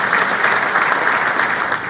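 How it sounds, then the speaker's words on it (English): Audience applause at a gentlemen's event fills the room, a dense, steady wash of many hands clapping that holds evenly throughout. "Let's give him another round of applause."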